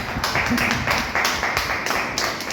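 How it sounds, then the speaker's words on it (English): An audience at a Toastmasters club meeting breaks into applause, a dense, steady burst of many hands clapping close by for a couple of seconds. "Whatever round of applause."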